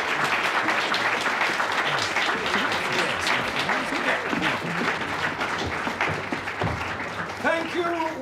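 An audience applauds after a stage performance, and sustained clapping from a crowd fills the room at moderate loudness while voices talk over it.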